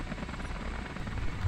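A heavily loaded helicopter flies in a space-engineering game, its rotor a dense, steady low chop that fills the whole moment at moderate volume, with no talk.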